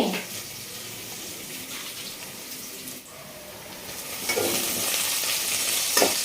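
Brinjal (eggplant) pieces frying in a pan and being stirred, a continuous wet sizzle with scraping bursts that grow louder toward the end, with no talking.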